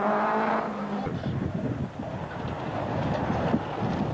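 A 1993 Mitsubishi Lancer four-wheel-drive rally car restarts and pulls away, its engine noise rising into a steady rough drone with gravelly tire noise.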